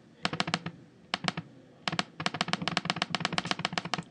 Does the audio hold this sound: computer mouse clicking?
yes